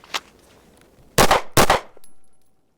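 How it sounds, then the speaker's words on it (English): Taurus GX4 9mm micro pistol fired during a draw-and-fire drill, with a faint click followed by two sharp, loud shots in quick succession, then a fading electronic timer tone. "We're going to do draw, fire 2, 3 times, take an average for each gun"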